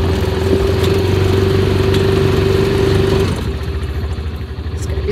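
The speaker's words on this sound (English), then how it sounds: "Now we're riding the four-wheeler." Four-wheeler ATV engine running steadily and loud while being ridden, a constant hum that drops slightly in intensity partway through, with no talking.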